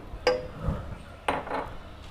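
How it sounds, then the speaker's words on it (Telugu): A metal pan set on a kitchen stove while dum biryani is being cooked gives two short clanks about a second apart, close by, with faint softer knocks between them and no speech. "స్టవ్ మీద ప్యాన్ పెట్టుకొని కొంచెం ఆయిల్"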